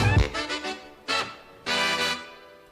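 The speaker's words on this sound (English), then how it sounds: "Let's just listen to those horns." A brass horn section blasts punchy, short stabs followed by two longer sustained chords, bright and loud.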